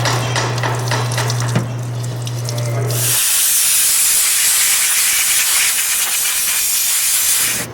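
Compressed air blasts steadily and loudly over a transmission filter just washed in a parts washer, drying it in a continuous hiss. A low hum shows early, then the air sharpens into a harsher rush for the rest.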